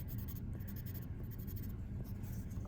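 Soft, continuous scratching of a pencil tracing a cupcake design on paper, quiet and close, with no one speaking.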